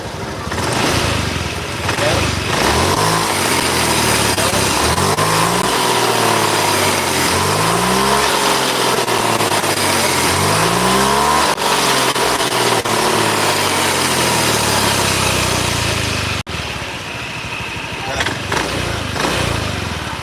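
A Honda Beat Pop scooter engine starts and revs up and down in repeated swells, close and loud, with a steady idle afterward.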